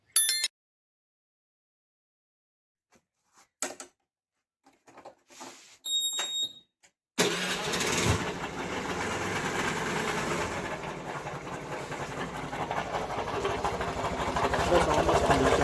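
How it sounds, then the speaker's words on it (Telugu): A Honda Activa 125 scooter with a cylinder head rattle starts up after some short clicks and knocks, then idles with a steady, loud engine drone and a rapid metallic chatter. "హెడ్ నుంచి సౌండ్ వస్తుంది. అది కెరకెర సౌండ్ వస్తుంది."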